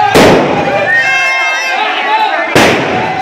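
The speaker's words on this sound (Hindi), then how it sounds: "काफ़ी सारे पटाखे फूट रहे हैं" Firecrackers burst loudly and close by during the Dussehra burning of a Ravana effigy: two sharp blasts with crackling tails frame a stretch of high whistling, with voices mixed in.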